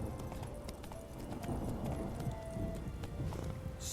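Geralt's horse Roach gallops in The Witcher 3, its hooves pounding in a quick, steady clip-clop rhythm at moderate distance, with faint background game ambience and no talk.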